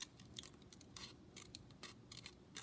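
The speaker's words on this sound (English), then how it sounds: "So I just want to now put my scissors in there, and I'm going to cut" Scissors snip through card stock while cutting around reindeer teeth for a pop-up card, giving a quick run of close, crisp, irregular cuts with soft quiet pauses between them.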